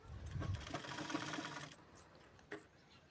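A sewing machine stitches the lining of a size 30 blouse in a fast, steady run of close whirring stitches that stops partway, followed by a faint knock or two.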